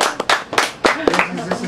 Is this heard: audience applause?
yes